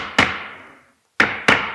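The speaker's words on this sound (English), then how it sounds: "If you need help, use the provided hammering block" Three sharp hammer taps on a hammering block seat a drawer cabinet assembly in place, the first ringing out with a long decay, then a pause before two more quick knocks close together, loud and near with no talk.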